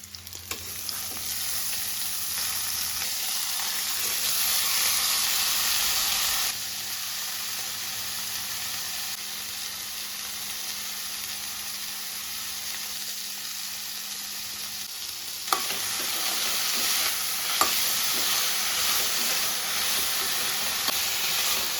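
Vegetables sizzle and fry steadily in hot oil with onion, garlic and chili, a loud continuous hiss with occasional stirring clatters and no talking.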